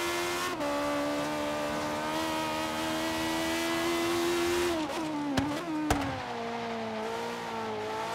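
A BMW i8 with a swapped-in V8 roars in Forza Horizon 3: one long, steady engine drone that dips and recovers as it shifts, with a couple of sharp clicks near the end.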